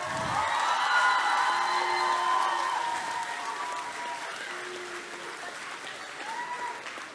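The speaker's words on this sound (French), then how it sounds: "Est-ce qu'on peut applaudir tous nos participants une dernière fois" A convention audience at Chibi Rouen 2022 applauds the cosplay contest participants, with sustained, dense clapping and a few scattered cheers filling the hall before it gradually thins out.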